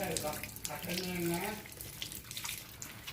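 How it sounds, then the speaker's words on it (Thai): A bunch of phak i-om, a leafy Isan herb, is rinsed under a running tap, a steady splashing stream close by, with a voice speaking briefly over it. "ผักอีออมครับ นี่ครับมาล้างก่อนครับ"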